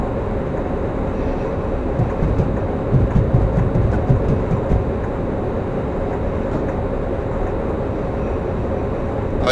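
A BR151 electric locomotive hauling a freight train, heard as a steady, loud rumble of rolling stock with faint rhythmic clicks throughout and no voices.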